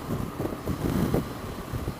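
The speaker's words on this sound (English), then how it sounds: "Got some crosswind here." Steady low, buffeting crosswind roar from riding a 2019 Honda CB500X motorcycle, a constant rumbling rush close to the microphone.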